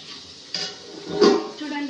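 Kitchen vessels being washed and scrubbed, with short clattering knocks of dishes and pots, close and fairly loud, alongside a voice talking.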